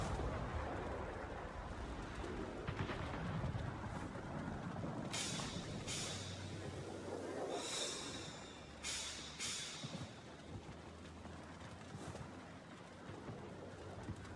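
Tier 5 battleship main guns fire in World of Warships, giving several deep booming salvos over a steady low rumble of sea and engine noise, with a few sharp cracks in the later half.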